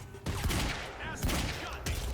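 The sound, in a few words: gunfire from enemies in the video game Quantum Break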